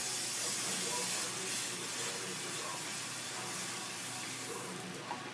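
A pump oil sprayer mists cooking oil onto a hamburger grill with a steady, close hiss that holds for several seconds before easing slightly at the end.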